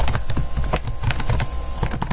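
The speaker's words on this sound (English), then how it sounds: "So I'll just type admission" Fingers tap a computer keyboard in a quick, steady run of close, crisp keystrokes with no talking over them.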